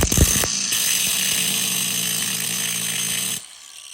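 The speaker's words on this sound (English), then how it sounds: "I'm just gonna cut a groove in the top of it." A power tool cuts a groove into the stripped head of a Loctite-secured screw on a GYTR harness install in an RMAX2, a loud continuous grinding whine that runs steady for about three seconds and then cuts off abruptly.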